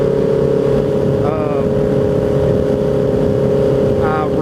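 A 1000 cc motorcycle engine drones steadily while being ridden, a loud, constant hum with wind rush and a couple of brief rising revs, with someone talking over it.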